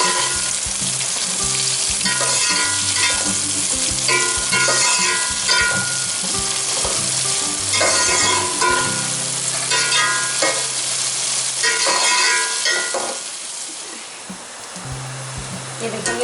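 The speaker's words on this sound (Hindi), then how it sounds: "2 अदद दरमियाने बारीक कटे हुए प्याज। इसको हम फ्राई कर लेंगे।" Two medium finely chopped onions sizzle loudly and steadily in hot oil for pulao, a constant crackling hiss with some music playing underneath.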